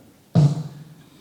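A single snare drum hit soloed on a digital mixer, a sharp crack with a short ringing decay, heard alone.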